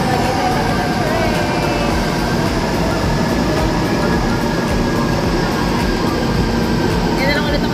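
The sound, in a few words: MRT train at a station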